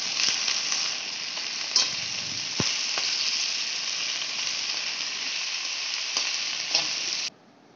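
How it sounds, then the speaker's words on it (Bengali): Malabar spinach and jackfruit seeds fry in a pan with a loud, steady, close hissing sizzle and occasional soft stirring bumps, ending abruptly after about seven seconds. "আমি পুঁই শাকগুলো দিয়ে দিচ্ছি, আর সাথে দিয়ে দিচ্ছি কাঁঠালের বীজটাও। এবারে এগুলোকে বেশ ভালো করে ভেজে নিতে হবে।"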